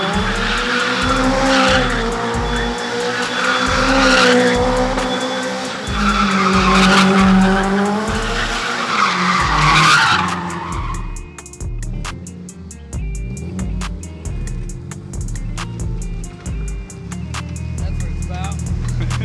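A Bugeye car races around the Waterford Hills track, its engine roaring and tires squealing and skidding loudly through corners. The engine later drops to a rougher, choppier note.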